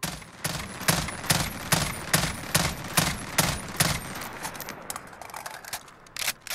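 A FAMAS rifle in Call of Duty Modern Warfare fires a series of sharp bursts, roughly a dozen evenly spaced volleys, loud and close, tapering into scattered shots at the end.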